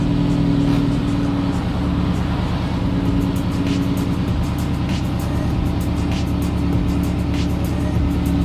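A car fitted with a chassis-mounted front splitter is driven out of a small shop garage, its engine giving a loud, steady low rumble that holds for the whole stretch with no talking.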